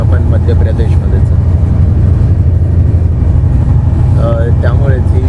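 Kashi Express passenger train rolls along slowly with a constant low rumble and hum heard from inside the carriage, with a voice briefly audible near the end.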